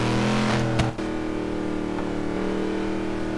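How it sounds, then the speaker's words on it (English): Supercharged Hellcat engine fitted to a Rolls Royce in Forza Horizon 3, a steady loud engine drone with a brief rev spike near the start, then holding a sustained even tone. "how much of a difference does the supercharger make to the sound in the interior or the exterior?"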